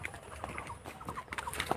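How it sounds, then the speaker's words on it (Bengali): A jungle fowl calls in a forest near a village graveyard, faint and somewhat distant, with short clucking notes scattered over a soft background. "এটা মনে হয় বনমুরগের শব্দ করতেছে,"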